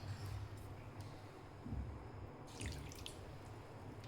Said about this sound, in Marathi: अर्धा कप पाणी टाकायचं आहे.